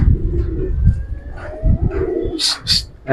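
Giribaz pigeons in a loft coo in repeated low, throaty pulses close by, with a few sharper higher calls breaking in near the end.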